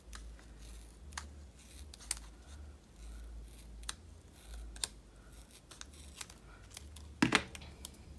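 Scissors snip through a paper piece for a planner dashboard spread, a series of crisp close cuts spaced out over several seconds, with light paper rustling and a louder crinkle near the end; no voices.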